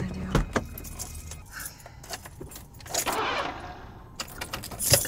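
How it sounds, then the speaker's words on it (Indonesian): Keys jangle up close, then a car's starter cranks in a short, rough burst that stalls out without the engine catching, and the keys rattle again at the end; no talking. "Angela mencoba menghidupkan mobilnya, namun sayangnya mobil Angela mengalami mogok dan tidak bisa dihidupkan sama sekali"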